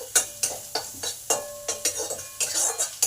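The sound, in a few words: frying cumin, ginger and asafoetida in a pan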